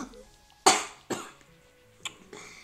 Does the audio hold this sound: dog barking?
no